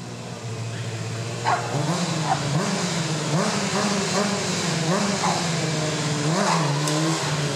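A stunt motorcycle at a motorcycle fair in Neumünster revs in repeated surges as its rear wheel spins and drifts, the engine pitch rising and falling rhythmically over a steady background.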